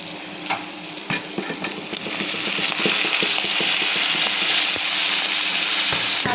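Water spinach greens drop into a hot pan with oil and turmeric, where a light sizzle swells into a louder, steady frying hiss with utensil clinks and stirring scrapes close by.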